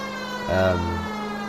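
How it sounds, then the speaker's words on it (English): A police car siren in the video game LA Noire swells briefly over steady background game music, a short loud wail rising then settling under the tonal soundtrack. "when the tense music comes in, that's when you want to play the siren"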